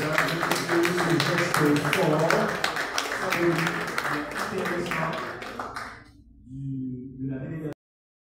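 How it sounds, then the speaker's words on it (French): Applause and scattered clapping from a crowd at a French-language event on a partnership with the University of Córdoba, mixed with voices and cheering, fading out near the end. "On applaudit s'il vous plaît, mesdames et messieurs"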